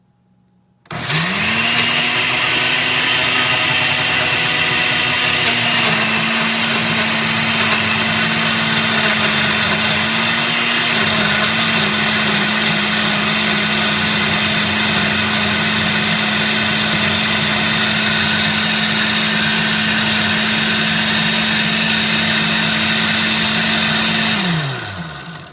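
A blender pureeing fruit starts up and runs at a steady high-pitched whir for over twenty seconds, loud and close, then winds down at the end.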